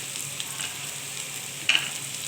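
Chopped garlic fries quietly in a pan, giving a soft steady sizzle with a couple of brief brighter crackles near the end and no talking.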